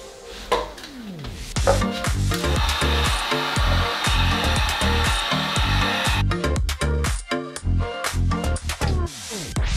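A heat gun blows steadily and loudly, warming a plastic gauntlet piece for a budget Mandalorian armor build, its airy roar continuous with scraping and handling noises throughout.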